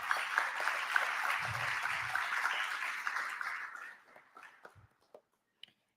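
Audience applause at a foundation event: a steady round of clapping that fades out around the four-second mark, leaving scattered claps, a few low thumps and some quiet knocks.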